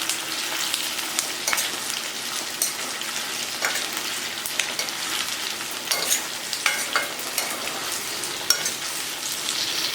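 Sliced onions fry in a pan for an onion sabji, giving a constant close hiss of sizzling oil with occasional crackles and pops and light stirring, and no voices.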